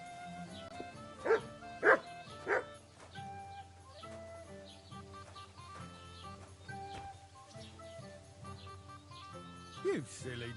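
A dog in the medieval video game Kingdom Come: Deliverance barks and yips in a few sharp bursts early on, then once more near the end, over soft background music and game ambience.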